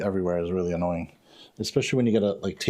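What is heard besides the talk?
No everyday noise stands out behind the speech.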